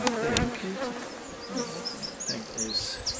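Honeybees swarm around an opened hive during a colony split, a dense close buzzing with individual bees whining past the microphone, unbroken throughout and without talk.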